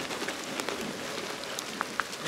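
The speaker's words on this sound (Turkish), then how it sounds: "Sadece yağmur değil, rüzgar da var." Rain and wind sweep the beach at İçmeler, a steady soft patter of drops with a couple of sharper single drips, no voices.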